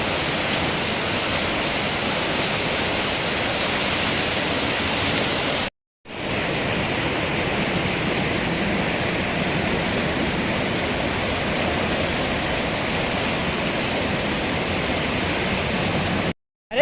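Steady, loud broadband rush of a fast-flowing hill river swollen by monsoon rains, continuous throughout with a brief drop to silence partway, no voices.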